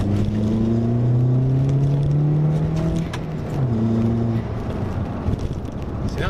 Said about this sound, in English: every now and then I just want to put my foot down like this.